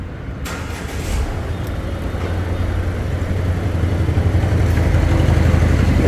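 A car engine running at a steady idle, a low continuous rumble that grows slightly louder and holds through the whole stretch.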